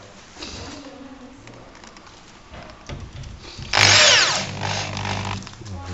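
A power drill drives screws into a display cabinet's lock fitting: one short, loud whirring burst rises in pitch midway, with quieter handling clatter around it.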